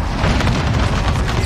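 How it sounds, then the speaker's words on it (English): Cluster strike explosions in the video game Call of Duty Modern Warfare form a dense, continuous rumble of booming blasts, loud and without pause, with no talking. "Allied cluster strike inbound."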